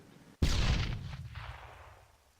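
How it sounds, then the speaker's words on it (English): One loud grenade blast in ARMA 3 breaks a near silence, a booming burst that rolls out into a long rumbling decay lasting about two seconds. "they're putting grenades down in the area of the Red 4 advance"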